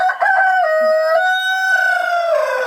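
A young rooster, hatched by a bantam hen, crows once in a long, drawn-out call, loud and close, with no talk over it.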